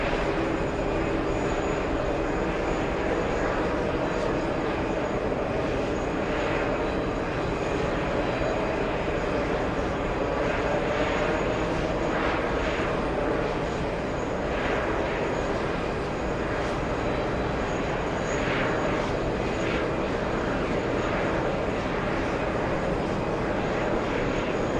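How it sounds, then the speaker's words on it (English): A CRJ 900 regional jet on final approach to runway 24R at LAX, its broad engine rumble and whine steady and continuous throughout, fairly near, with no talk over it. "looks like we have a CRJ 900 on final 422 right"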